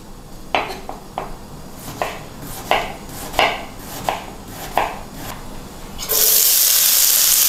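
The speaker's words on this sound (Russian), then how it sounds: "И максимально мелко мы режем лук." A knife finely chops onion on a cutting board in about a dozen quick, evenly spaced strokes, then running water from a tap takes over.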